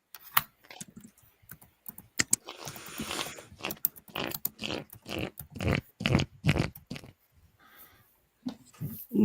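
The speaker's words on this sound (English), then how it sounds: "I'm making fart sounds with my deck of cards." Someone makes fart sounds with a deck of cards: irregular bursts of ruffling, sputtering noise that come in quick clusters with short gaps, close and fairly loud, with no talk over them.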